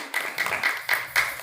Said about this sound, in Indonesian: boleh kita kasih tepuk tangan yang meriah